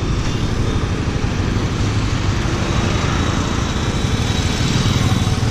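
A brand-new Yamaha MT15 motorcycle engine runs steadily up close, a loud, buzzing, rapid-pulsing drone with no pauses or talk.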